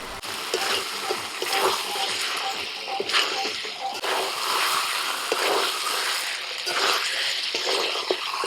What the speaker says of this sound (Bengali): মশলার সাথে চিকেন আলু ভালো করে কষিয়ে নিয়েছি এখন জল দিচ্ছি